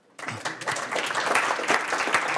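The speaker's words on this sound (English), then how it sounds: "Applause now" Applause from a conference audience breaks out abruptly and quickly builds into a steady, close round of clapping that holds at full strength for the rest of the two seconds.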